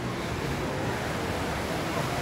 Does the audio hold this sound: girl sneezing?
no